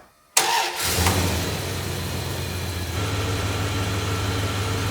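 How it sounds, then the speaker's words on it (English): A car engine cranks and catches with a sharp start, then settles into a steady mid-pitched idle running for several seconds, close and clear. "we're going to start the engine for a few seconds"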